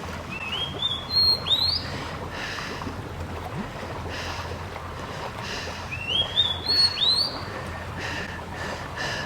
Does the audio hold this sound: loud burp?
no